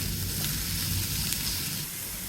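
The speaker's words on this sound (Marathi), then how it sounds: "मिरची, लसण आणि खोबऱ्याची पेस्ट देखील आपण तेलात छान फ्राय करून घेऊया." Chili, garlic and coconut paste fries in oil, giving a dense continuous sizzle and hiss, close and even throughout, with no speech.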